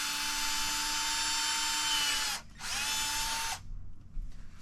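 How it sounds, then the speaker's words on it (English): A power drill whines steadily at close range as it bores into a 2020–2023 Toyota Tacoma front grille, stops briefly, then runs again for about a second before falling quiet. "so let's just drill right here."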